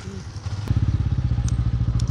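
A motorcycle engine idles close by while the bike is being parked, a steady rapid throbbing that starts abruptly, with a few light clicks and clatters on top.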